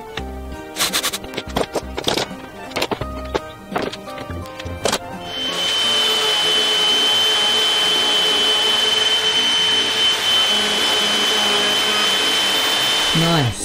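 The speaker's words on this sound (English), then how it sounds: "I am thinking to use my router table, or my makeshift router table, and try and route that hole out" A router on a makeshift router table cuts a hole in a workpiece, starting with clicks and knocks, then spinning up into a loud, steady high-pitched whine that holds for several seconds.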